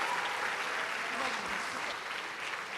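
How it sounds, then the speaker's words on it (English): Audience applause for learners from the Design and Technology Institute at a school event, a dense steady wash of clapping from a crowd, fairly distant and sustained for the whole moment. "A round of applause for DTI."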